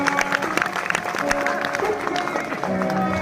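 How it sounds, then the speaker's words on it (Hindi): An audience at a bhajan event claps to welcome a guest, a dense, steady patter of applause that continues for the whole stretch over a faint crowd murmur. "सभी जोरदार ताली बजा करके स्वागत करें।"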